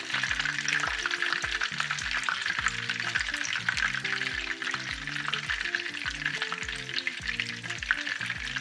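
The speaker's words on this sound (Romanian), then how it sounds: "Șnițelele noastre s-au prăjit, s-au rumenit foarte bine." Breaded oyster mushroom schnitzels fry in a pan, a steady dense sizzle of hot oil crackling continuously for several seconds, close and even, with no one talking.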